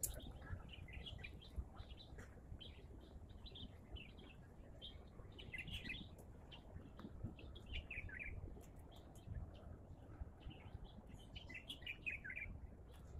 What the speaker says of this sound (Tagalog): Ganda yung mga sounds ng mga ibon.